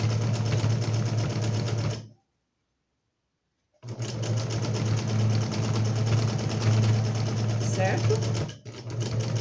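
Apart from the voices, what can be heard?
sewing machine stitching fabric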